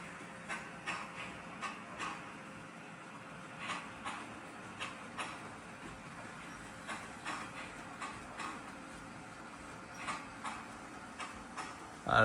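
Motorized LEGO Crocodile locomotive rolling along its track at a steady pace, a faint continuous hum with soft regular clicks as wheels pass rail joints, no voices.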